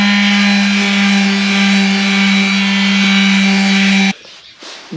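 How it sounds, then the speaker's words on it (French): A power sander with 150-grit paper works over a steel helmet, a late-war Luftschutz Stahlhelm M38, giving a loud, steady droning whine up close for about four seconds before it abruptly cuts off. "Ici, nous sommes armés d'une magnifique ponceuse."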